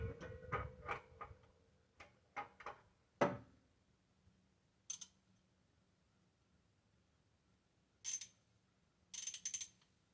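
A ratchet moves the A/C belt tensioner on a car engine, giving short bursts of clicking near the start, then sparse metallic ticks and clatters with long quiet gaps between them.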